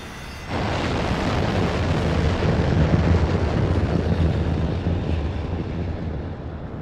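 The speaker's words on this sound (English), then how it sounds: "Sandra, prepare for takeoff." An airplane taking off, a steady, broad roar that swells and holds for several seconds and then eases slightly, loud and continuous with no voices over it.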